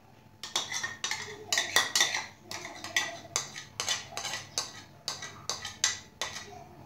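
Chaat ingredients with onion being mixed in a bowl, a spoon clinking and scraping against the dish in a steady, rapid rhythm of close, bright taps.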